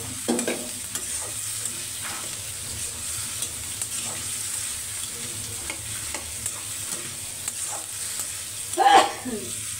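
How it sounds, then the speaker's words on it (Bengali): Potatoes stir-fried in a pan with ground spice paste, giving a steady close sizzle with soft scraping stirs throughout and a louder clatter of the spatula near the end; no talking. "আলুটা ভালো মতো এখন কষাই নেব।"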